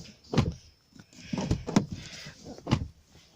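Door of a 2021 Mercedes E220d being shut, several dull thuds and soft clunks spaced apart, close by, with a faint background hiss.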